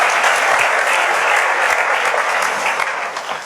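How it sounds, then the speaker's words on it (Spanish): A Spanish auditorium audience applauds guests taking the stage at a talk with Patrick Rothfuss, a steady, loud wash of many hands clapping that fades slightly at the close. "Un aplauso."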